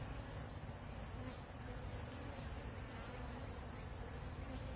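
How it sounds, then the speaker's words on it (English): A steady, dense buzzing of many honey bees fills the air, continuous and fairly close, with a high whining hum running throughout. "Definitely has a lot of bees."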